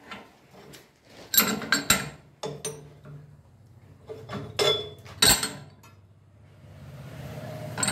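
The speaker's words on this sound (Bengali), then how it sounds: "এই যে ছুরি এক এক করে খুলবো, এখানে রাখবো।" Metal blades from a pulverizer hammer mill for grinding corn and flour are lifted off one by one and laid down. Sharp clinks and clanks come at uneven intervals, close by, with quieter handling noise between them.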